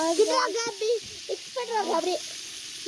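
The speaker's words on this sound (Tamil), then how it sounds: "பாருங்க புதினா வெங்காயம் இதெல்லாம் போட்டு இப்போ வதக்கிட்டு இருக்கோம்" Mint and onion sautéing in a pot over an outdoor wood fire while cooking dum biryani give a soft background sizzle. A voice talks over it almost the whole time, and the frying stays faint beneath the speech.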